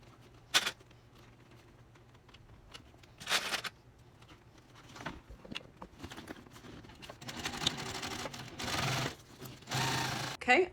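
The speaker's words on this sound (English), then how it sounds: "now we just have to clip and stitch this hole closed" A sewing machine closes the turning hole of a cotton tote bag in a few short stitching bursts, with the longest run near the end, separated by quiet handling and rustling.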